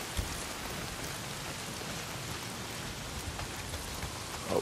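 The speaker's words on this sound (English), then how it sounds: "Well, not if it's pissing down rain." Steady heavy downpour in the video game Days Gone, a dense, even hiss of rain hitting surfaces throughout with no pauses, fairly close and continuous.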